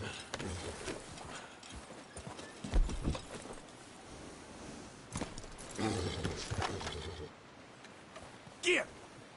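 Horse hooves clip-clop at a slow walk with irregular hits, a few louder thumps standing out, and faint background noise between steps.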